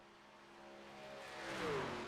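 A race truck engine in the iRacing video game drones steadily at Daytona, its tone rising and swelling as the truck accelerates toward a louder peak before easing slightly, with no voices.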